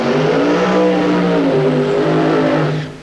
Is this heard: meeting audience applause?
no